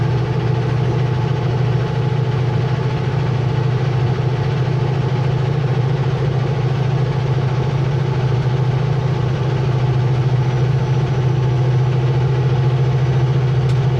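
A heavy truck hauling 140,000 lbs climbs slowly up a steep Canadian mountain highway grade, its engine giving off a deep, steady, unbroken drone with no talk.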